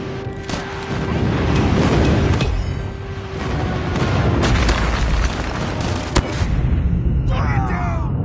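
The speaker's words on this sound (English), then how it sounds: "Friendly airstrike incoming." Airstrike explosions in Call of Duty Mobile, heavy booming blasts rolling continuously for several seconds, loud and dense, with a sharp crack near the end under game voice callouts.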